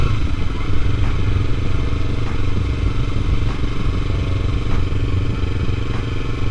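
A Kawasaki Ninja 300 motorcycle engine drones loud and close throughout a ride, a steady buzzing roar with rattling clatter and no pause.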